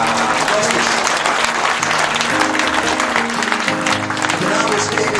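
Loud, dense applause from a crowd at the naming ceremony of a lifeboat, a continuous wash of clapping that holds steady throughout with a low murmur of voices beneath it.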